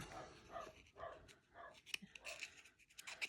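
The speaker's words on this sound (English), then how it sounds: "My next door neighbor's dog's barking." A neighbor's dog barks in a repeated rhythm of short yaps at a moderate distance, several barks spaced about half a second apart across the whole stretch, with some soft scraping noises in the room.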